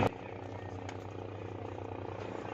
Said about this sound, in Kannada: ಅಲ್ಲಿ ಹೆಲಿಕಾಪ್ಟರ್ ಬರ್ತಿದೆ ಒಂದು.